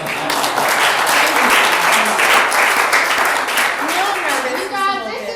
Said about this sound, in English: Y'all can clap for him.